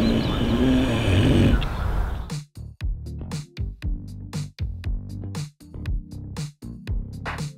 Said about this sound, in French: le cochon, il ronfle encore plus fort que moi quand il dort